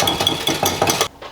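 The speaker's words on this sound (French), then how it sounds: "Donc il faut fouetter un petit peu quand même." A whisk beats eggs and sugar in a bowl, making quick rhythmic clinks and scraping strokes against the sides before it stops abruptly.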